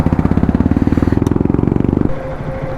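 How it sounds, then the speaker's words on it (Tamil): A motorcycle engine idles close by with a steady, rapid chugging pulse, then the rhythm drops and smooths into a lower hum near the end. "இப்போ பைக்கு வந்து இப்போ ஸ்டார்ட்டில் இருக்குல்ல"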